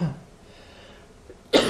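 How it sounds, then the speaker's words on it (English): A lecturer coughs twice in a quiet room, a short cough at the start and a louder, sharper one at the end, separated by near silence. "Apologize for my cough."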